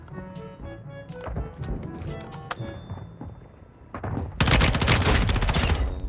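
Gunfire in Call of Duty Warzone Mobile, a run of sharp single shots followed by a dense burst of rapid firing that grows loud near the end.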